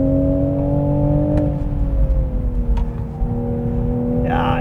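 A Toyota Supra A90 Final Edition with a manual gearbox pulls out to overtake, its engine note climbing steadily under load in a loud, close cabin drone.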